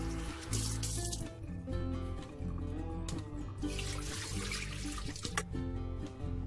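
A kitchen tap runs in a steady, moderate stream while raw oysters are rinsed beneath it, with no talking.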